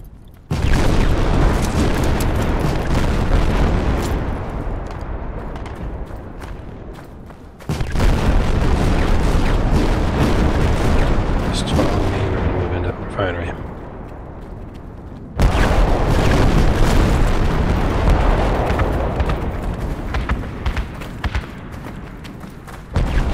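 Artillery area attack in Project Reality, a military shooter, defending an oil refinery: heavy rumbling booms and blasts come one after another in a loud, sustained barrage, broken by brief lulls.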